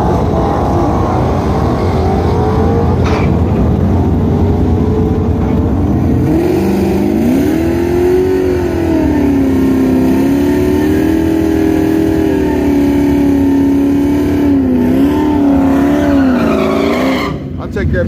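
A Ford Mustang drag car idles and then revs for a long stretch at a drag racing event, its engine tone rising and wavering, loud and close, over a constant background of other engines.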